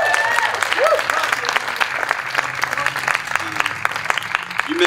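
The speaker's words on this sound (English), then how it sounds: "How about a round of applause for Joe?" Audience at a book tour event in a Tulsa community space applauding, a continuous patter of many hands lasting several seconds. Occasional voices come through under the clapping.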